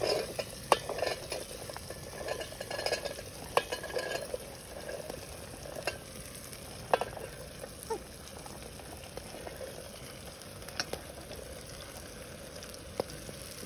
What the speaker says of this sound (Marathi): ते पूर्ण मिक्स करून घेऊ, आणि ती भेंडी शिजायला थोडासा मीठ पण टाकून देऊ चवीपुरतं.